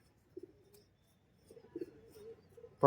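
A male giribaz pigeon gives a few soft, short coos, first alone and then in a longer rolling run, ending in a louder burst nearby.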